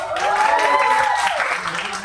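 An audience at a college freshers comedy event in Indore claps for the seniors, a short burst of loud applause with a few whoops over it.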